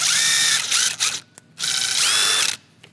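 Ratchet with a 10mm socket driving an M8 bolt into a truck bumper bracket, two loud bursts of rapid clicking, each about a second long, separated by a short pause and a single click.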